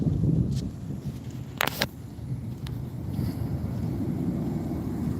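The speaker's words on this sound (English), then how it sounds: "Got some wind coming at me right now." Gusty night wind coming off a lake buffets the microphone outdoors, a steady low rumbling roar that swells and fades continuously with a few brief sharper bumps.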